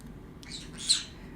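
Outdoor birds chirp faintly in the background, a few short high tweets with one brighter call standing out over a low, steady room hum.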